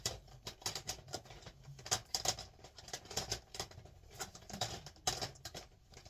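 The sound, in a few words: shuffling DVD film cases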